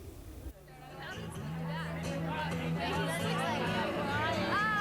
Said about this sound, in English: the crowd anticipates the start of tonight's show